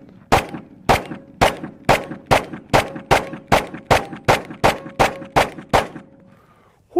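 Fifteen shots from a Sig X-Ten 10mm pistol ring out in a steady, evenly spaced string, each sharp report paired with a ringing clang from steel targets.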